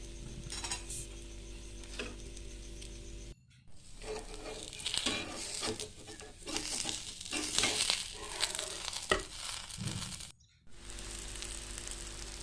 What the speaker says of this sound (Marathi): पॅनवर तेल टाकले तेल चांगले पसरून घेतले नंतर अशा प्रकारे दिरडे बनवून घेतले